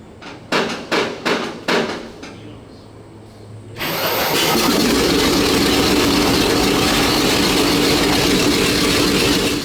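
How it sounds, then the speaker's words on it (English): A WWII Grant tank's radial engine is started during a track change. Several loud, sharp cranking bangs come first, then a brief pause, then the engine catches and settles into a loud, continuous, rough roar that runs to the end. "With the engine fired up, Steve can drive off the tracks"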